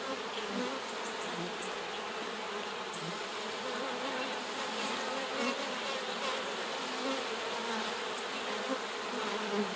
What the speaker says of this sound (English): A lot of bees hanging on there